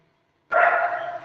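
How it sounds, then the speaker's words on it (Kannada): A single dog bark or yelp rings out after half a second of silence, fairly close and sustained briefly before fading. "ಗುರಣ್ಣ ಅದನ್ನ ನಾಯಿ ಓಡಿಸ್ಬ."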